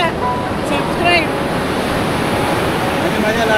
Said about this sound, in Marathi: एक लाट आली